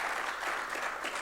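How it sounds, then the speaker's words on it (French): An audience applauds speakers at an industry conference session, a steady wash of many hands clapping at moderate, fairly distant level for about a second, with no voices on top. "Je crois que vous pouvez les applaudir."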